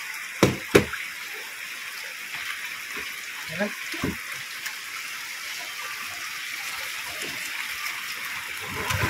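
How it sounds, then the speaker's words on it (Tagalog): Steady rain hisses down continuously, with a couple of sharp knocks near the start and a brief spoken word. "Dire-diretso pa din naman yung ulan"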